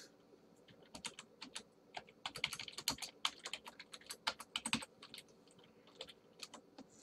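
Fingers type on a computer keyboard in quick irregular bursts of crisp, close key clicks, pausing briefly between runs, in a quiet room with no voices.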